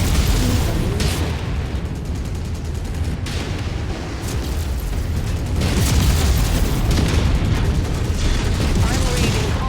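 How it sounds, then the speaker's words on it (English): Missile explosions in the Rise of Rasalhague video game make a dense, loud, continuous rumble of booms and bursts, with a voice talking under the din. "Incoming missile."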